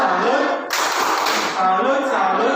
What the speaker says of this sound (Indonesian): Coba semuanya. Tepuk salut.